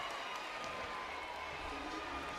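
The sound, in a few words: home crowd cheering at a volleyball match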